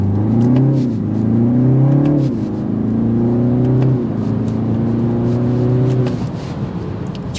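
A 2024 BMW 330 sedan's 255-horsepower turbo four-cylinder revs hard through a 0 to 60 run, a loud steady drone rising in pitch with several gear-change dips, heard from inside the car.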